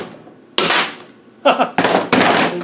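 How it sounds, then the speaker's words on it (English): Hammer blows on a socket punching a bearing out of a Land Rover R380 gearbox during an overhaul, several sharp metallic strikes in quick succession, the last three loud and close together. "Now we've got that out, we can punch the bearing out."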